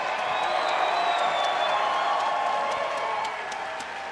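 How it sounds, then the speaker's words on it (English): A fight crowd at a bare-knuckle boxing event gives a round of applause after a five-round bout, with broad clapping and cheering that swells, then slowly fades, under an announcer's amplified voice. "let's have a round of applause for these two warriors."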